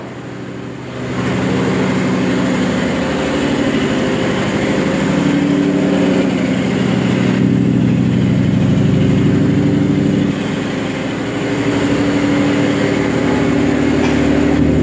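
At Malang railway station a train's engine rumbles loud and steady, a continuous low drone running throughout.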